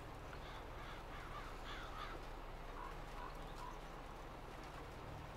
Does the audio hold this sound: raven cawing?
yes